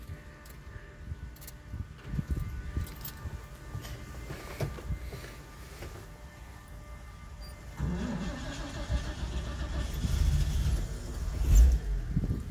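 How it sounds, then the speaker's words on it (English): A 1940 Chevrolet Master Deluxe Business Coupe engine cranking, catching and settling into a smooth, steady idle, heard up close after a few scattered knocks and clicks. "me get a shot of the engine running."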